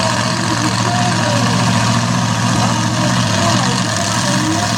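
Drag racing car on the track, its engine running with a steady low rumble and a loping idle that stays loud and constant, with an announcer talking over it.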